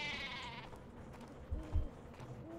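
Sheep bleats from the Worms: Clan Wars video game, a couple of short nasal bleats over a steady game background, fairly faint and without talk.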